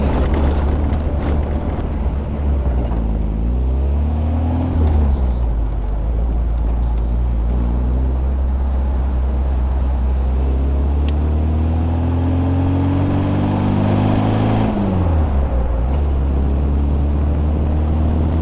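A 1965 MG MGB being driven, its engine droning loud and steady throughout with revs rising and falling through direct gear shifts, the pitch sweeping up in pulls and dropping at changes near the middle and end.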